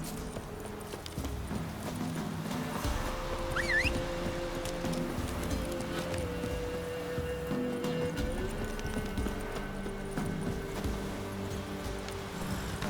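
Horses clip-clop steadily through The Witcher 3, with an occasional whinny, all under a constant bed of game music and ambience; the hoofbeats sit mid-distance rather than up close.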